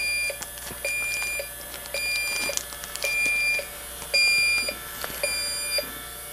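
Repeated electronic beeps from a Yellow Jacket AccuProbe 2 refrigerant leak detector's audible alarm, short steady tones pulsing at an uneven rhythm over a constant background hum, fairly close and moderately loud.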